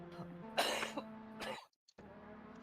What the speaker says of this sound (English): That healthy cough.